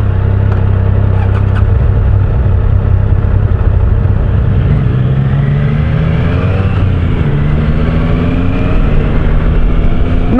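A KTM motorcycle engine fires up and revs, running loud and continuous with rising and falling pitch sweeps close by, and no voices over it.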